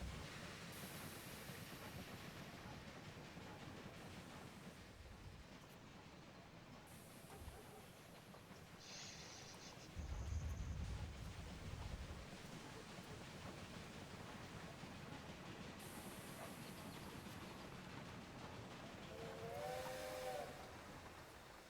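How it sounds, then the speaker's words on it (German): Train arriving in the video game Railway Empire 2, with a steady hissing, rumbling bed of steam and rail noise, a few whistle-like tones and a brief low surge midway, playing continuously without speech. "Ah, hier kommt der Zug."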